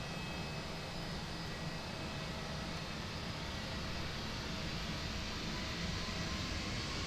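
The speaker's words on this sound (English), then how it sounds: "Oh, can you hear the flaps?" Airbus A320 cabin in Microsoft Flight Simulator 2020 as the flaps move: a steady, dense whirring hum with broad engine and air noise that stays constant throughout, with no voices.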